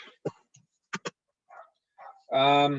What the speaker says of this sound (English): Got the dog barking in the background